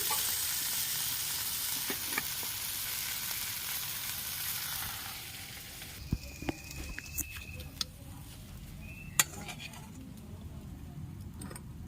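Gima saag greens hiss and sizzle loudly in a pan for several seconds, then the frying fades to a quieter crackle punctuated by scattered utensil clinks.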